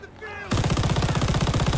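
Rapid automatic fire from a machine gun in a World War 2 video game, a dense, loud, steady burst that breaks in suddenly and runs continuously to the end after a quieter opening.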